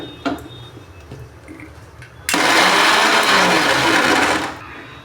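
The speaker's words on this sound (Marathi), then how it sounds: "आता आपण हे मिक्सरला छान असं फिरून घेणार आहोत" A kitchen mixer grinder blends spinach paste in a loud, steady whir lasting about two seconds, starting abruptly after a quieter stretch with a few light clicks.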